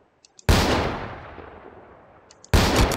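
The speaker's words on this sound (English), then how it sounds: "Is this a shotgun, bro?" Two loud shotgun blasts from a realistic gun video game, spaced about two seconds apart, each a sharp crack followed by a long decaying boom, with faint clicks of handling between them.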